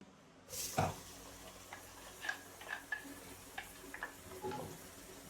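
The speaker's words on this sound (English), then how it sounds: "Our oil is hot enough, so we are going to go in with our onions." Onions go into hot palm oil and start frying, an initial burst followed by a faint, steady crackle and sizzle with scattered small pops and ticks, quiet and close.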